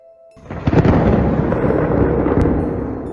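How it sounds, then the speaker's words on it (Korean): A loud, close clap of thunder breaks out suddenly, then rumbles on heavily and slowly fades. "엄청난 소리와 함께 천둥이 울렸다"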